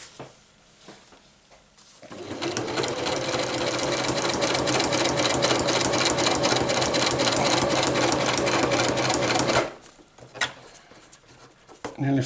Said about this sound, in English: And then we can begin to stitch across this second edge.